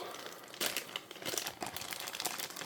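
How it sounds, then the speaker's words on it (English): A zip plastic bag holding earbuds crinkles close up, with a few sharp rustling bursts and quieter handling in between, no speech. "So just in a zip plastic bag."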